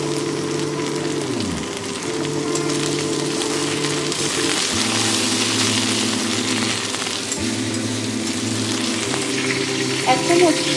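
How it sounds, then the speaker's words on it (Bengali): Spices with chopped tomato and ginger paste sizzle steadily in hot oil for a fish-head moong dal, a continuous close crackling fry with occasional stirring scrapes, loud and unbroken throughout. "সমস্ত কিছুকে আমি ভালো করে কষিয়ে নেব। দিয়ে দেবো টমেটো কুচি।"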